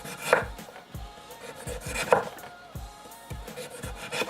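Kitchen knife cutting around and peeling down the sides of a butternut squash, with close, rhythmic scraping and chopping strokes repeating roughly every half second.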